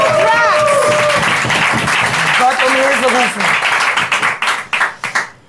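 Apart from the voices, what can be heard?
studio audience applause on a TV show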